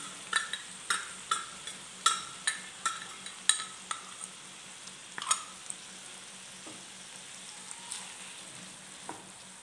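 Water-soaked chilies hit a pan of frying paneer with tomato, giving a soft steady sizzle broken by sharp spattering pops and occasional utensil clinks, close and fairly quiet.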